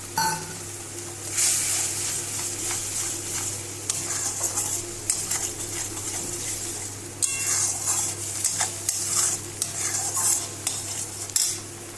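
Cumin, chili and turmeric powder fry and get stirred in a pan for soybean malai curry, a soft steady sizzle broken by repeated scraping and clinking of a spoon against the pan, close and without talk.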